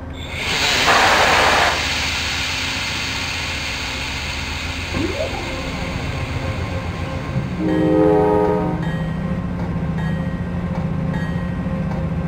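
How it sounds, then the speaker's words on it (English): Air compressor running aboard an Amtrak Carolinian passenger train between Charlotte and Raleigh, a steady hiss and hum under continuous rail rumble, with a loud burst of air early and a brief tonal whine partway through. "our compressor is going to be on for the next 3 years"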